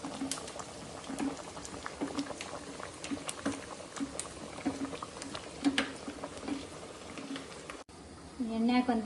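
Cucumber sambar boiling in a pot: steady, close bubbling with rapid popping and gurgling that continues unbroken, then a louder burst of bubbling with a voice at the very end.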